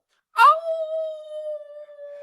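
A man imitates a gray wolf howl, one rising cry that settles into a long, steady, sustained tone, loud and close with no other sound around it.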